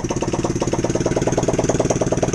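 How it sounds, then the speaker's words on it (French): An Apollo 125MX3 2008 dirt bike idles steadily after a kick start, a close, rapid, even single-cylinder chug with regular pulses, running alone. "Premier coup de kick, ça démarre."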